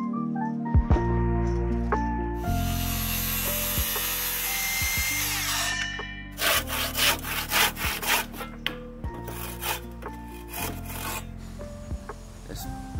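A handsaw cuts through timber roof rafters on a hipped roof build, rhythmic back-and-forth strokes, close and clear, with no talk over it.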